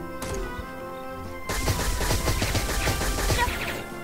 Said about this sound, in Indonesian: gue bawa pistol lagi dong